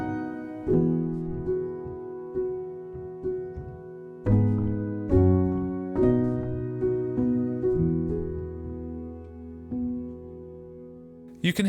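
A sampled piano with a soft felt tone plays sustained, gentle chords and single notes, struck every second or so, ringing out with long, warm decays and faint ambient layers behind, alone and fairly quiet.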